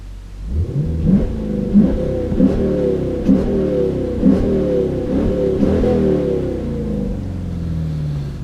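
A Dodge Challenger engine fitted with an Airaid cold air dam intake, heard from inside the cabin with the windows down: a deep, loud engine rumble pulsing through repeated revs, rising and falling about a second apart, with no speech.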